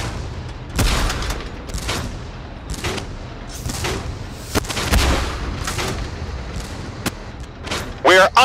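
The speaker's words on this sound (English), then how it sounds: "We are under fire!" Incoming tank fire in the video game Tank Force lands as a rapid run of loud booms, about one per second, over a constant rumbling battle din, with a sharp burst near the end.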